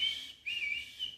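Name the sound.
person imitating a calling whistle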